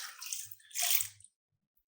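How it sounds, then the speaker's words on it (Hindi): Water poured from a mug splashes over feet during a yoga follow-up session, two short pours of splashing and dripping, close and clear, then quiet. "जो मग में रखा हुआ पानी है, इससे हम अपने दोनों पैरों को आराम से धो लेते हैं अच्छी तरह से"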